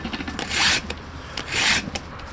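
A chainsaw saw chain with a badly worn cutter is sharpened by hand using a file kit: two close, firm rasping strokes about a second apart, each with lighter scraping ticks around it.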